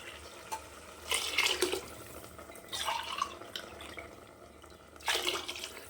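Water poured from a tumbler into a cooking pot while making vegetable biryani, three separate splashing pours with quiet pauses between them, close and moderately loud.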